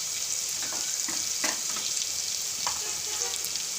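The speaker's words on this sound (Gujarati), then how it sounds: "લસણ નાખી દેવું અને આદું નાખી દેવું આપણે હિંગ નાખી દેવું" Garlic, ginger and asafoetida sizzle steadily in hot oil for a ridged gourd and potato curry, a dense continuous crackle with a few soft stirring scrapes, no talking.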